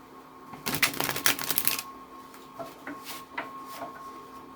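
A quick riffle of cards shuffling in a burst, followed by a few lighter taps and card flicks, close and fairly quiet.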